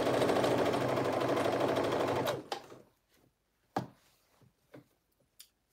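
A cover stitch sewing machine hemming a tee runs at a steady, rapid mechanical whir for about two seconds and then stops, followed by a few faint clicks and handling taps.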